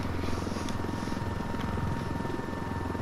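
Aircraft engine droning steadily in the video game Ghost Recon, a continuous low hum with a rotor-like pulsing, fairly loud and alone throughout.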